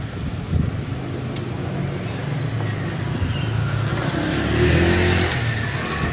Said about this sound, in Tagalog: hindi tayo makakatulog nito pag ganito kalakas yung hangin